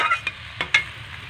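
Fish curry simmering and sizzling in a pan as the water cooks off, a steady close sizzle broken by a few quick stirring scrapes.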